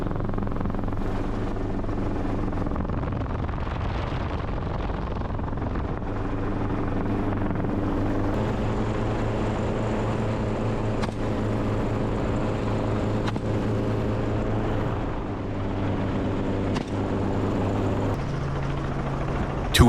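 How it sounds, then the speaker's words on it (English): Helicopter circling low over wild boar hunting ground, a steady, loud rotor drone with deep throbbing blade chop that holds throughout, shifting slightly in pitch as it banks, with wind buffeting the microphone. "We maneuvered the helicopter back around, but visibility was obstructed."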